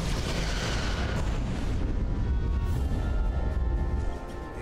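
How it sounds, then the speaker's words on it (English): Photon torpedoes fire in the video game Star Trek: Resurgence, a dense rumbling boom and roar that holds steady for about four seconds before easing off, loud and close. "Fire photon torpedoes."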